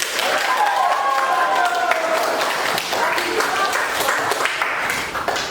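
A classroom audience applauds a student with dense, steady clapping that runs evenly from start to finish, with some voices mixed in.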